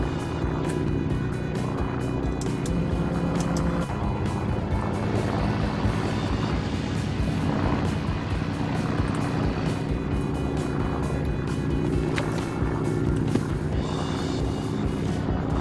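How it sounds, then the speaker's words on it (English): A Hawker Hurricane's propeller engine drones loud and steady in Arma 3, a constant rumbling aircraft hum that holds unbroken throughout with a slight shift in pitch partway through. "There he is. There's a hurricane."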